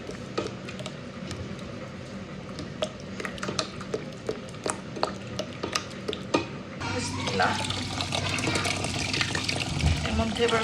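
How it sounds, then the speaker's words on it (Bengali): Lentils that have been mashed with a spoon have hot water poured into them in a pot, a splashing, gurgling pour after scattered spoon taps, with a voice talking over it. "গরম পানি দিয়ে দিলাম"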